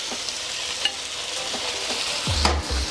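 Chicken chow mein sizzles in a hot wok as a spatula scrapes and stirs it, with a continuous frying hiss, scattered light clinks and scrapes, and a few low thumps near the end.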